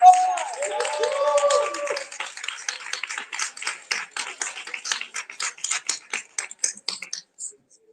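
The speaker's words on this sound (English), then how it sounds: "Y'all clap for the poet got the score." Audience at a Southern Fried Poetry Slam applauding a poet, steady clapping that thins into scattered claps and fades out; a voice speaks over the opening seconds.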